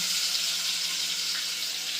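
Steady bright sizzling hiss of cumin, mustard seeds and garlic frying in hot oil for tempering, continuous and fairly close, with no voices.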